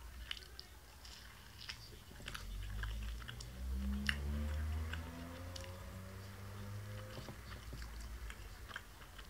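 Someone chews a soft, chewy 7-Eleven milk mousse snow bun. The mouth sounds are quiet, soft and close, with faint crunchy clicks over low, muffled bites and no talking.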